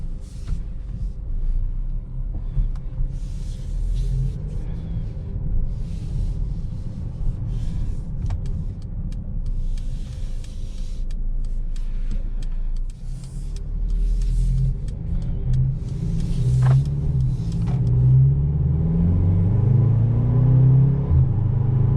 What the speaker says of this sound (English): let's go ahead and take this Mercedes-Benz GLB on a test drive and see how it does